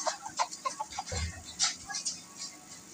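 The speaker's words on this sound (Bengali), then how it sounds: "উফ, এই মোরগ দুটো কিরকম লড়াই করছে" Two roosters fighting at a poultry shop produce scattered clucks, squawks and flapping scuffles amid a busy market background.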